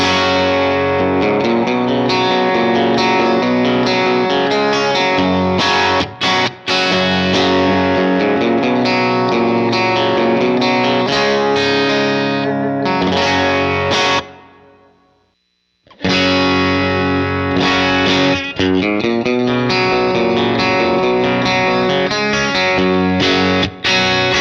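Heavily distorted electric guitar through a UA Ruby '63 amp model plays a loud, sustained rock riff with chords and bends. It briefly cuts out near the middle, then resumes.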